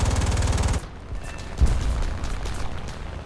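Aircraft machine gun fire from a He 112 V-5 in the combat video game War Thunder, a fast loud rattling burst for under a second, then engine drone with a single heavy thud.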